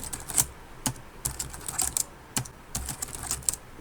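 Computer keyboard typing into a comment box, with quick, uneven bursts of close key clicks and short pauses between strokes.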